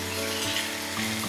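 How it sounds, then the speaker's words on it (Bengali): Chicken and onion frying together over high heat in a pan, a steady dense sizzle running throughout with no talk. "চিকেনটা যখন ভাজা ভাজা হয়ে গেছে তখন আমি পেঁয়াজ দিয়ে দিলাম"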